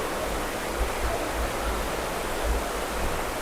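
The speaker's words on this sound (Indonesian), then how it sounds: "Wow, sungai bawah tanah." Rushing water from an underground river flows inside Jatijajar cave, making a steady, dense broadband roar with low rumbling surges and no voices.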